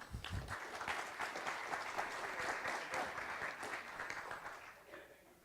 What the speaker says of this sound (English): Our applause to panel one